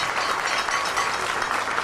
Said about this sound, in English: Let us give our Baba a wonderful round of applause.